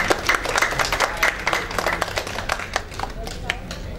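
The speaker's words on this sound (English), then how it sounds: "So please give applause for yourself." Applause from a seminar audience at an information systems project management session, a steady patter of many hands clapping with some talk mixed in.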